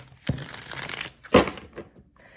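A deck of oracle cards being shuffled by hand, two crisp riffling bursts followed by softer rustling and sliding, close and quiet, no talking.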